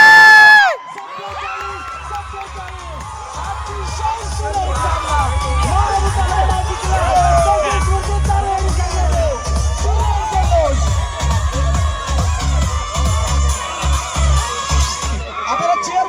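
Spectators at a village cricket final erupt in loud, sustained cheering, whooping and shouting after a one-run victory, with excited voices and children's yells layered over each other and a steady low rumble underneath.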